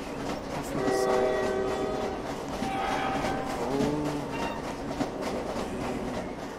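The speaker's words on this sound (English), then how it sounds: "Don't want to get hit by that train." A train in the Roblox Jailbreak video game rumbles past, loud and close, with a horn-like tone sounding over the steady rolling noise.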